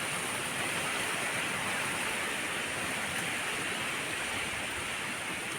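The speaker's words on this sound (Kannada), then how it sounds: "ನೋಡಿ ಇವತ್ತಿನ ಭಯಂಕರ ಗಾಳಿ" Strong winter wind blowing steadily outdoors at a home, a loud, continuous broadband roar with no pauses and no voices.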